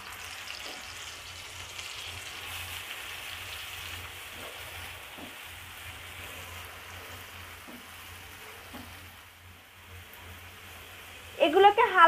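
Onion, garlic and ginger paste sizzling in oil for shrimp bhuna, a steady soft crackle heard up close throughout, ending with a brief louder clatter.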